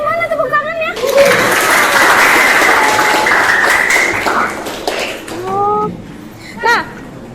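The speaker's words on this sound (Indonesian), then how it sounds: "Mana tepuk tangannya?" Classroom applause from a group of students clapping together for several seconds after a group presentation in a mathematics lesson, followed by a teacher's voice speaking briefly afterward.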